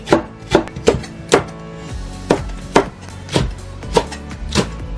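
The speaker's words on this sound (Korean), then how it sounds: "고추, 대파는 어슷 썰어주면 된답니다." A knife slices diagonally through chili peppers and green onions on a cutting board, giving about a dozen crisp, close chopping thumps in an uneven rhythm, with no talking.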